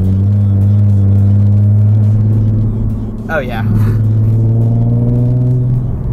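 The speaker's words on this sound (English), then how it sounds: "Today we are in a 2009 Nissan 370Z. That sounds amazing." A 2009 Nissan 370Z sports car gives a deep, steady engine drone with strong low harmonics throughout, with a short voice remark partway through.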